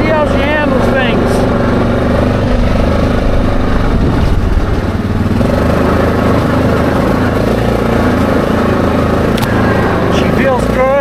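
An ATV engine runs steadily at close range on its first ride back at a Sauble Beach campsite, a continuous motor drone with shifting pitch.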